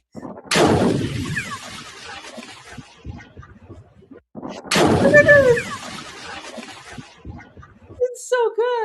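A missile strike in footage played back on a livestream: two heavy booming blasts a few seconds apart, each with a sharp attack and a long rumbling tail, followed by brief voices at the end.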